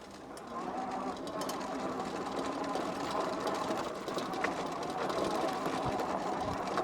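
A 3,000-watt rear hub motor on an electric bike whirs as the bike accelerates, giving a steady mechanical hum with faint rattles and some wind noise at moderate level.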